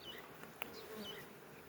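Honey bees buzz around an opened hive frame during beekeeping work: a faint, steady, continuous hum of many insects close by, with no talking.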